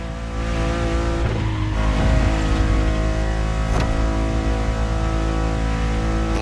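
A Ferrari supercar engine in the game The Crew Motorfest, heard from inside the cabin: a loud, sustained, rich harmonic roar that builds up quickly and then holds steady at high revs.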